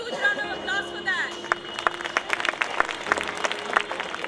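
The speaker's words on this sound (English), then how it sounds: "Can we have a huge round of applause for that?" An audience at a children's annual school concert claps in scattered, uneven bursts at moderate distance, with a voice speaking over the start and light crowd murmur beneath.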